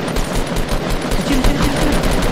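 Rapid automatic gunfire in the video game Fortnite, a dense continuous burst of shots that is loud and close throughout.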